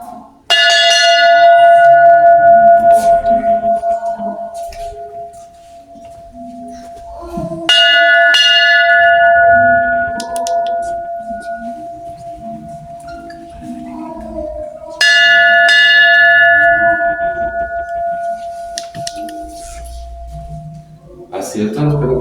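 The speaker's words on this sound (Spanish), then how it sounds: "Pueden tocar la campana si gustan, es como darle grito." A replica church bell of San Miguel in Guanajuato, displayed in a folk art museum, rings three times in a row with loud, sustained metallic tones that slowly fade between strikes.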